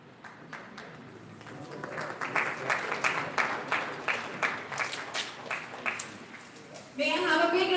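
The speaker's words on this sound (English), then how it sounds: "May I have a big round of applause" Audience applause at a felicitation during an international conference, steady clapping from a crowd through most of the clip, ending in a louder burst mixed with a voice.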